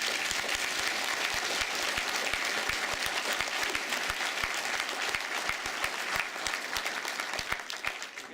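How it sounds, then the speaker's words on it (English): A crowd applauds at a street-renaming ceremony honoring a slain police officer; sustained, dense clapping with sharp individual claps standing out, continuous for the whole stretch and easing slightly near the end. "Round of applause."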